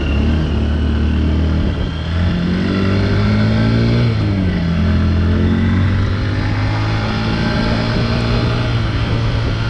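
Loud, close engine drone with revving and shifting pitch, like motor vehicles passing on a busy street, continuous throughout with no voices.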